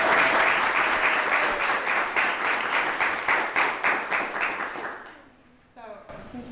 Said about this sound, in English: So can we have a round of applause for Dr. Kendall?